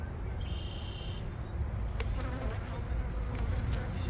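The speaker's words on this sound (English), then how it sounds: "this beehive is about to explode and have a lot of bees" Honeybees buzz around an open, crowded beehive, a steady close hum of many insects, with a higher insect whine near the start and a few clicks and handling noises later.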